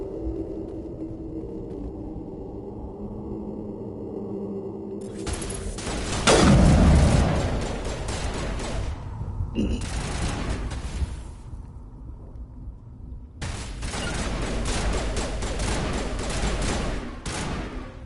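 Grenade explosions and gunfire from the Mass Effect video game trench battle: a loud booming blast followed by sustained, dense bursts of weapon fire and rumbling over a steady hum of background game noise.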